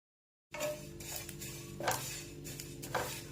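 Half a cup of white sesame seeds dry-roasting in a pan for a Maharashtrian masvadi, with steady light scraping and stirring clatter and a soft crackle throughout, close and moderately quiet.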